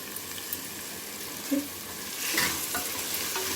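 Fresh mint and coriander leaves stirred into a pot of frying chicken curry masala, a steady soft sizzle with scraping and stirring noises, slightly louder toward the end, no talking.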